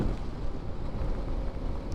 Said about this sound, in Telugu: అబ్బా వర్షం పడుతుంది, మళ్ళా